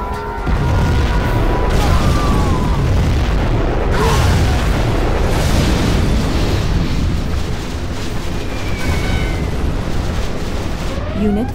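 Nuclear missile detonation in Command & Conquer Generals Zero Hour, a loud, sustained roaring blast that rumbles on for many seconds with crackling debris and smaller pops layered over the low boom.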